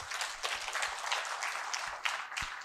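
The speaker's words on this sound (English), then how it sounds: "Please clap." Audience clapping at a speech, a fairly steady patter of many hands at moderate distance, continuing through the moment without talk over it.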